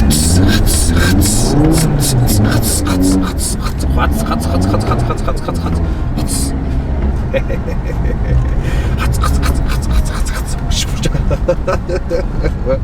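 An Audi RS3 accelerating hard on a snowy winter road, its engine revving loudly and continuously close by, with voices audible over the engine noise.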